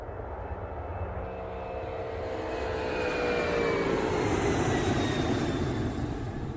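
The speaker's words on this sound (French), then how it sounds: "le jeune Agré embarque à bord de l'avion" Fixed-wing airliner engines on a flight from Abidjan toward Marseille: a steady broadband roar with a faint whining tone, swelling gradually louder as the thrust builds, with no voices.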